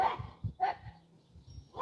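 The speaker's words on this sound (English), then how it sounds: "Excuse the dogs." Dogs barking outdoors in a garden near a polytunnel: a few short, close barks and yips in quick succession with brief gaps between them.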